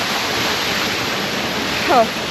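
Steady rushing roar of a waterfall along a trekking trail near Kharikola village in Nepal, continuous broadband wash of water, with a brief voice near the end.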